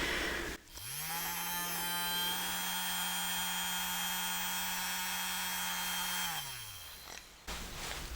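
A power drill whirs up to speed, holds a steady whining pitch for about five seconds, then winds down to a stop in a quiet room.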